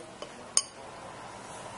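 A thin glass rod taps against a glass container filled with a thick, dense liquid, giving one soft tick and then a sharper, ringing clink, both faint and brief against quiet room noise.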